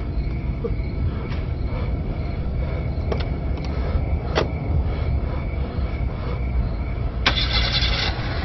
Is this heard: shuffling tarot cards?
no